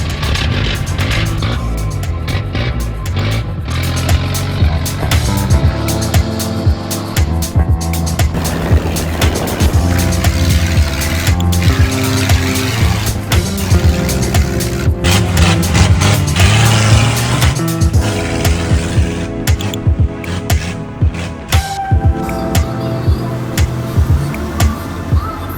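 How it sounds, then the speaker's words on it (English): An old Toyota Hilux four-wheel drive on sand at Fraser Island, its engine droning and rising in pitch as it works through gears, with rattles and bumps of the vehicle running close and loud throughout. "Then it was time for four-wheel driving."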